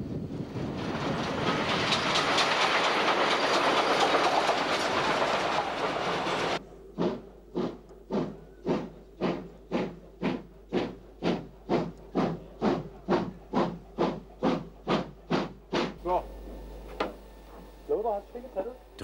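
Steam locomotive 62 015 works near Dresden's main station in Saxony, first with a loud roaring rush, then a close, even run of strong rhythmic exhaust chuffs that fades at the end.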